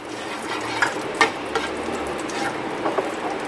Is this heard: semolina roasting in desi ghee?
yes